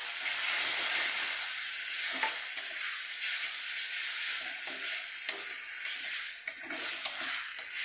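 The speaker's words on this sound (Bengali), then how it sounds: "টমেটো বাটাটাও আমি খানিকক্ষণ ভেজে নেব।" Tomato paste sizzling in a pan for a cauliflower, potato and bhetki fish curry, a steady bright hiss with occasional spatula clicks and stirring scrapes, close and continuous.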